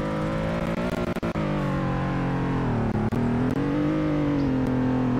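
An SUV driving in the Roblox game Greenville, heard as a steady loud engine drone with shifting pitch and a few brief clicks, with no talking.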